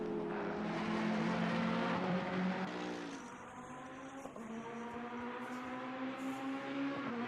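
Ferrari GT3 race cars at the Bathurst circuit in the racing game Assetto Corsa Competizione, engine notes howling and climbing through gear shifts, one car chasing another with a continuous, fairly loud engine drone.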